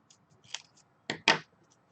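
Scissors snip through card paper, cutting it in half: a couple of soft clicks, then two sharp close cuts in quick succession, alone in a quiet room.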